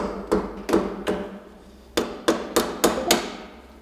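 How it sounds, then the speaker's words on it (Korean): A hammer strikes a corroded, seized cooling-system thermostat housing on a car engine in a workshop, giving eight sharp metallic blows, loud and close, in an uneven rhythm with short pauses between them. "지금 망치로 때려서"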